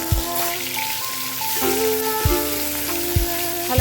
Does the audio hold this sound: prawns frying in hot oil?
yes